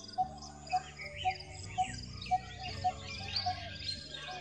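A Coppersmith Barbet calls in a steady series of about eight evenly spaced, hollow tonk notes, clear and fairly close, with other birds and insects chirping faintly behind.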